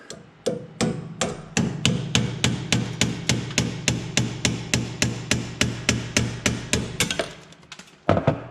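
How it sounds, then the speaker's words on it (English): Steady run of about two dozen close, loud hammer taps knocking a stuck part out of a Challenge EH-3c 3-hole paper drill, evenly paced metallic strikes, then a pause and one final blow. "you should just be able to tap it and it'll pop right out"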